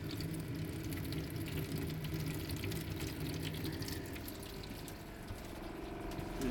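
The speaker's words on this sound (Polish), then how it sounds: "już się włączyła pompa." A camper's water pump switches on after a tap is opened, giving a steady, low, close hum over continuous running water, with no voices.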